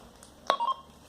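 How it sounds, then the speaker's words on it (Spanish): A TCA PRC-152A handheld radio gives its short roger beep at the end of a transmission: a quick electronic click and brief two-part tone, faint and close, with no talking. "El Roger, que es el típico Roger beep, que al acabar una transmisión suena un pip que se le transmite al receptor"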